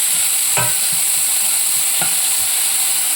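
Onions and curry leaves sauté in a hot pan with a steady close sizzle and hiss, broken by a couple of sharp scrapes as the mix is stirred.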